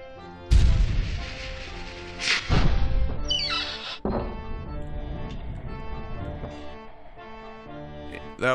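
Cannon blasts in the Selma and the Wisp video game: a sharp boom, a second heavy blast, then a crashing hit, layered over a busy game music bed with a ringing tail.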